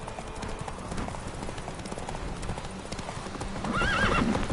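A horse gallops in The Witcher 3, its hooves drumming in a rapid continuous clip-clop, with a short whinny near the end.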